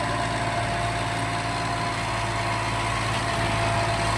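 Mahindra tractor stuck in a farm field while loaded with 200 sacks, its engine droning steadily with a low, continuous hum and tonal whine, up close and without talk.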